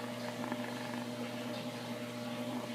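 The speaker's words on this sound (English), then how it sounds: "Oh, she's purring." Leia, a small rescued kitten, purrs in a soft, steady low rumble held close to the recording, faint and continuous with no voices.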